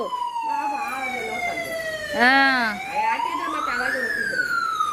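A loud siren wails nearby, its pitch sweeping down, then quickly warbling before climbing again in a continuous electronic tone.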